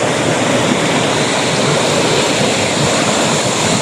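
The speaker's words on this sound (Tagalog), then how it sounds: "tingnan nyo yung ilog dito" A river in Barangay Gabas, Buhi, Albay in Bicol rushes and churns steadily, a dense broadband wash with no breaks that sits close and fairly loud throughout.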